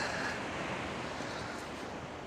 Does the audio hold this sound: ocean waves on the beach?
yes